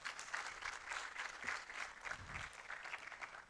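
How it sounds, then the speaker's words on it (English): Conference audience at a science meeting applauding presenters after a talk, a steady wash of many hands clapping at moderate distance, fairly quiet, with no voices over it. "Can we please have a round of applause for the presenters?"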